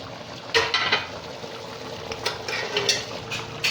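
Mutton karahi with freshly added spices being stirred and fried in a pan, a soft steady sizzle with a few clinks and scrapes of a spoon against the metal, close by, with no voices.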